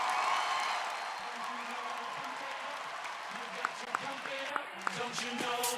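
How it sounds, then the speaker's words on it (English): Graduation ceremony audience at a psychology commencement applauding; a broad, distant wash of clapping with a few whoops, under a faint voice. "Please join us in a round of applause."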